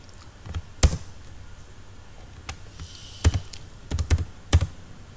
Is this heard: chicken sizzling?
no